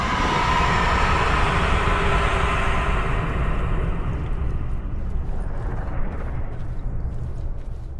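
In the video game Alan Wake 2, a subway train roars loudly up close as a dense rushing rumble that slowly thins and fades over several seconds, with no speech.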